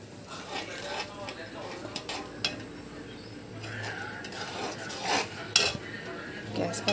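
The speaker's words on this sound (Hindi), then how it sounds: "चलिए हम लोग सूजी को थोड़ा थोड़ा डालते हैं।" Semolina being stirred little by little into boiling water in a pan for upma, with metal spoon scrapes and clinks against the pan over a steady background hiss.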